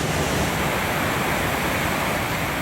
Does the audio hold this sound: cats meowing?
no